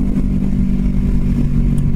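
A Kawasaki Vulcan S 650 Cafe cruiser motorcycle on the move, its engine giving a steady, loud low drone with a faint rasp, heard close up with no voices.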